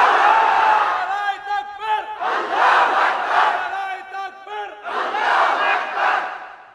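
A large crowd at an outdoor Islamic sermon gathering in Mymensingh chants takbir in loud, unified bursts, three long swells of voices separated by brief dips.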